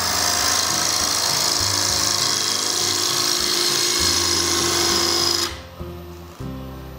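A wooden box blank spins on a lathe as its corners are turned off round, giving a steady high whir and rasping cut that stops abruptly near the end, leaving a lower motor hum.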